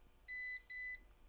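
A laptop motherboard under test gives two short, clear electronic beeps in quick succession, thin and tonal against near silence.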